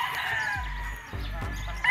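Roosters crow at a gamefowl farm, several short calls rising and falling in quick succession at moderate distance, with a louder burst at the end.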